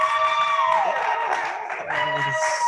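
A live comedy show audience at Pontio cheers and whoops for an act. A tonal whistle-like cry rises over a broad crowd roar, and a host's voice briefly joins near the end.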